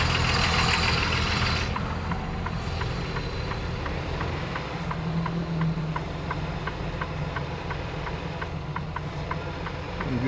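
A truck engine idles and then rolls along behind a store, giving a steady low rumble with a faint regular ticking over it. No voices are heard.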